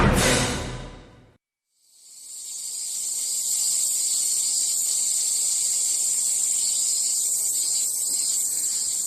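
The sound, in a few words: many cicadas singing together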